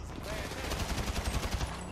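Rapid gunfire bursts in GTA V, a dense, steady stream of shots with a low rumble, close and loud, with voices calling out over the shooting.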